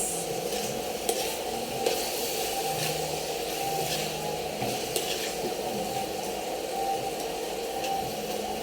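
Chicken cooking with honey in a pan, sautéed with a steady sizzle and soft stirring scrapes, a continuous moderate crackle with occasional light clinks of utensil on pan, no voices.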